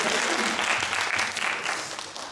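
A church congregation applauding during a Sunday service, dense steady clapping from many hands filling the room, loud and continuous before tapering slightly at the end.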